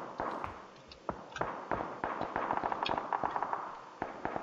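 Heavy gunfire in the battle royale game PUBG, a dense run of sharp cracks and thumps crowding one another, some close and loud, others softer and farther off, carrying on without a break.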